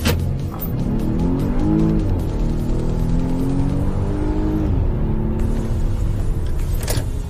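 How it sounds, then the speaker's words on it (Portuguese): Volvo XC90 SUV accelerating hard in power mode, a loud, steady engine roar with rising harmonics throughout, the revs climbing and shifting as the large SUV pulls forward, with no talking. "Então coloquei no power aqui, vamos acelerar?"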